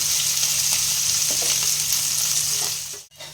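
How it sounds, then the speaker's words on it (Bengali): Chopped onions fry in hot oil with a loud, dense, continuous sizzle close by, a few faint clinks of a utensil underneath, and the hiss drops away abruptly just before the end. "এটাকে বেশ একটু লাল করে ভেজে নেবে।"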